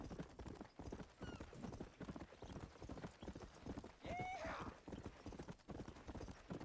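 A horse ridden in Red Dead Redemption clip-clops at a steady rhythmic gait, with a brief whinny partway through. A person talks over the hoofbeats now and then.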